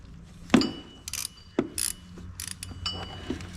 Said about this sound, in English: I'm using a deep 13mm on a 3/8 ratchet.